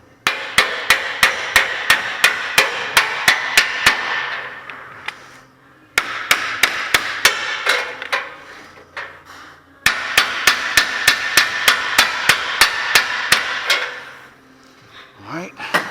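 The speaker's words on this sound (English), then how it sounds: "Get you an indexable pry bar, one you can hammer on with the metal tip." Sharp, ringing hammer blows on a metal-tipped pry bar while removing a front CV axle on a Toyota Tundra, in three steady bursts of rapid strikes, loud and close, separated by short pauses.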